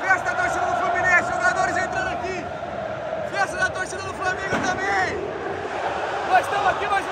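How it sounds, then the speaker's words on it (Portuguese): Flamengo football fans chanting and singing together in a packed stadium at the Carioca final, a loud, sustained crowd roar with rising and falling voices, heard from within the stands. "Lá a torcida do Flamengo cantando pra caramba!"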